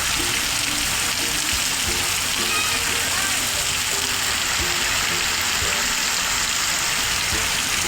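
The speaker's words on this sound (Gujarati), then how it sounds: "વરસાદ ફૂલ જોમી ગયો અને વીજળી પણ થાય" Heavy rain pours down steadily during a storm with lightning, a dense continuous hiss throughout, with faint voices murmuring beneath it.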